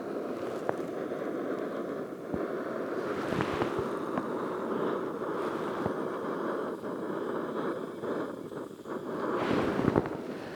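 A Soto Muka camping stove burns outdoors with a steady, roaring rush, broad and continuous, with a few small clicks and knocks and a slight swell near the end.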